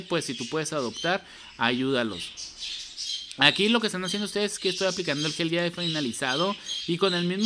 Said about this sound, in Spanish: Ahí disculpen los pájaros, chicas, Están grite y grite.